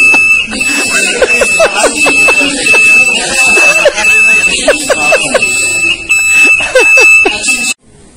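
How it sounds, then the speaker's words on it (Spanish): A steady high-pitched alarm tone rings continuously at an airport while people talk and shout nearby, cutting off abruptly near the end. "Más alarmas, no puede sonar ya."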